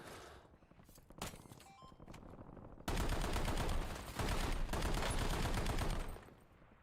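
Rapid bursts of automatic gunfire from Warzone Resurgence multiplayer, loud and sustained with short pauses between volleys, preceded by scattered single shots and game effects.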